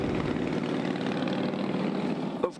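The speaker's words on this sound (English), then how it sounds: "the roar of motorcycle engines ever present in downtown D.C." A deep, rumbling roar of motorcycle engines in downtown Washington, D.C., holds steady and loud throughout, then cuts off abruptly at the end with a short clunk.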